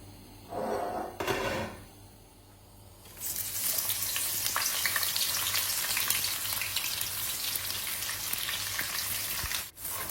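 Thinly sliced medium onions hit hot oil in a wok and sizzle loudly and steadily, preceded by a few brief clatters and stirring sounds, close and alone without talk.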